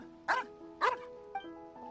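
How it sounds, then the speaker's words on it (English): Two sharp dog barks in a Genshin Impact game scene, close and loud, followed by a fainter short yip, with a steady tonal game background underneath. "What are you barking at?"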